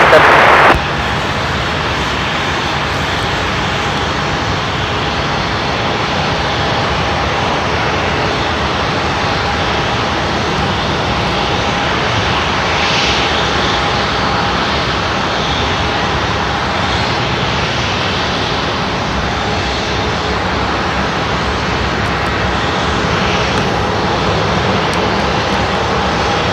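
Aircraft engine of Jazz flight 3770 at Seattle-Tacoma International Airport, a loud, steady roar that holds without a break, close and unbroken throughout.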